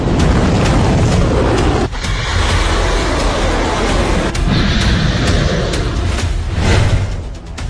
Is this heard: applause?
no